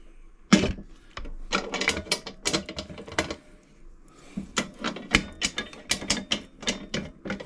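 The lid of a mould box for epoxy resin mould making being tightened down, with bursts of quick ratcheting clicks, close and fairly quiet, pausing briefly midway before a second run of clicks.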